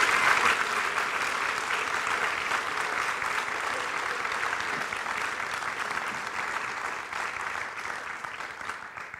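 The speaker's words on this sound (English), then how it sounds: "I think they deserve another warm round of applause." A school audience applauds students after a performance at an art appreciation lecture, a sustained, dense round of clapping from many hands that slowly fades toward the end, with no voices over it.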